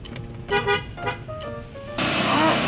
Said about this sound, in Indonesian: Kebeneran ku aing dilaksonan ah.